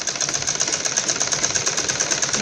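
A sewing machine runs a straight line of stitching along a blouse strip. It makes a steady, fast, close rattle with no pauses, and nobody speaks.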